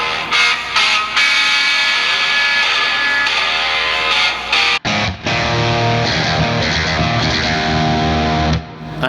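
A song played as an isolated distorted electric guitar track, a galloping rhythmic riff of chugging chords that briefly cuts out near the middle and then resumes, loud and continuous.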